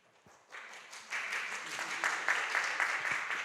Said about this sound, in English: Hold your applause, please.